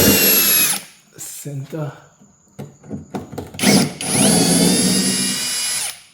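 A power drill backing bumper screws out of the underside of a Volkswagen Passat CC, in two long whirring runs with rattling, clicking handling noises between them, close and loud, with someone speaking briefly.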